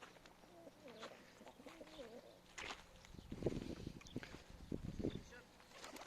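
Pigeons coo in soft, repeated rolling calls nearby, followed by a stretch of indistinct speech and shuffling.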